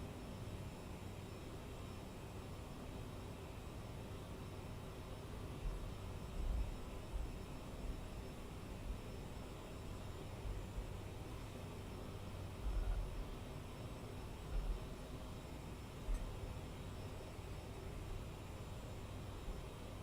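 Aerosoft CRJ-900 jet engines in flight at cruise altitude in MSFS 2024, a steady, dense, unbroken engine roar and airflow hiss that stays even throughout, with a few soft low bumps.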